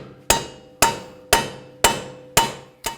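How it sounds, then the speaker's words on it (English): Six sharp, evenly spaced hammer taps ring out close by as splined bolts are driven into the steering knuckle of a 2011-19 Ford Police Interceptor Utility during a front strut replacement. "So just take a hammer and just tap them in a little bit."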